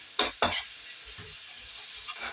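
Ginger garlic paste being sautéed in masala for nargisi kofta gravy: two sharp scraping stirs of a spoon against the pan near the start, then a low simmering sizzle with faint utensil taps, no speech.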